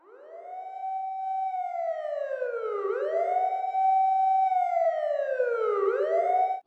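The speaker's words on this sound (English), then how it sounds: "A distant wail at first, easy to ignore. Sirens." An emergency siren wails in the distance near a baseball field, sweeping up and down in long, repeated rise-and-fall cycles. The tone is steady and fairly strong, with no other sounds.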